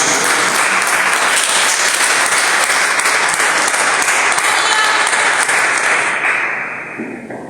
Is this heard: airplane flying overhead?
no